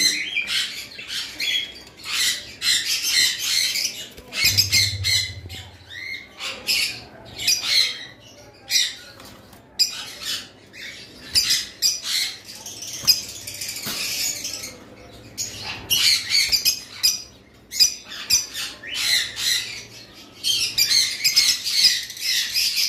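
A lovebird gives harsh, repeated squawks in rapid bursts, close and loud, over a light scrabbling patter, continuing almost without pause.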